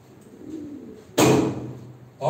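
Tumbler pigeons at a bird auction give soft, low cooing near the start, then a sudden loud burst of noise cuts in and a second burst arrives just before the end.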